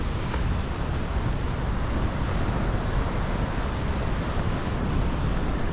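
Steady roar of ocean surf and wind on a clifftop walk just north of Manly Beach in the Sydney suburbs, a dense, unbroken wash of sound with no voices.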